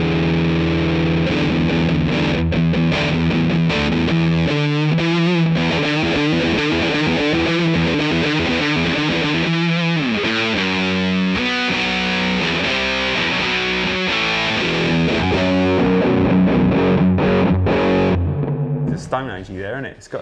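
An electric guitar plays through a vintage-style fuzz pedal turned up high, giving a thick, buzzing, heavily distorted tone. Chords and riffs are strummed continuously for about twenty seconds.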